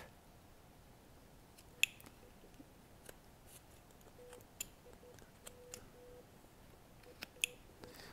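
A knife carves a small stick of wood, making faint, sparse clicks and soft slicing ticks at close range, scattered irregularly over a quiet background.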